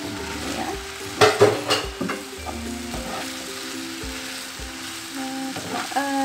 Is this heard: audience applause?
no